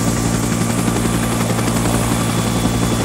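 A helicopter in a military video game holds a loud, close, continuous rotor thrum with a droning engine whine and no pauses or talk.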